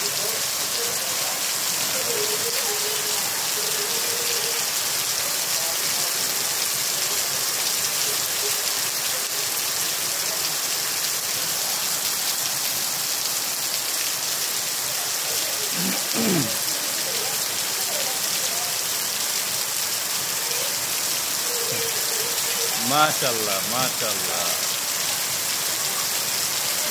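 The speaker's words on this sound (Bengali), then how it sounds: "এত বৃষ্টি নামতেছে এই দেশে।" Heavy rain pours steadily in a dense, continuous hiss, with a man briefly exclaiming a couple of times over it.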